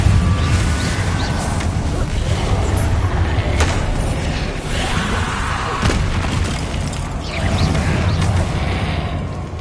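Spell blasts from Confringo and Bombarda go off in the Hogwarts Legacy video game, several loud booms and crashes one after another over a low rumbling bed inside the Great Room.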